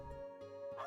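A single short bark from a dog in the video game Trails of Cold Steel 4 comes right at the end, above a sustained musical tone.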